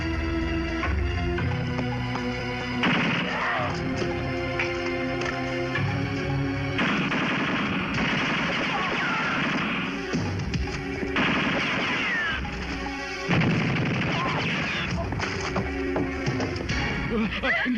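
Bursts of rapid gunfire rattle repeatedly, with loud automatic volleys and brief pauses between them, close and harsh.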